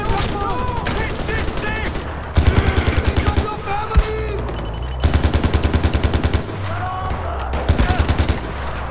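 Gunfire in the video game Far Cry 4 on PC: loud bursts of rapid automatic shots in several rhythmic volleys, separated by short pauses with a single heavier report in between.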